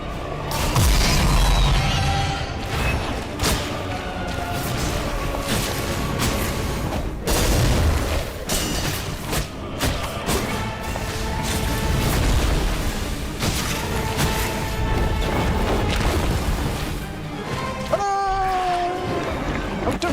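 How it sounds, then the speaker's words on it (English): Gory bursts of blood exploding in the dark-fantasy action game Thymesia, repeated heavy booming pops over a dense, loud game soundtrack and combat noise throughout. "Oh no, blood explosions!"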